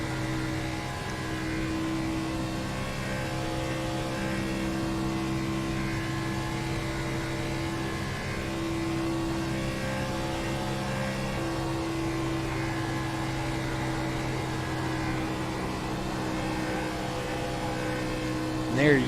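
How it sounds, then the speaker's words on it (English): Onboard a SCAR stock car lapping the big 2-mile Michigan oval in the Mug Root Beer Michigan 200, a steady high-revving engine drone with stable harmonic whine held throughout, rising slightly near the end. "let's go ahead and jump on board inside of the cockpit with Mark Truxell as he makes his way around this big 2-mile track"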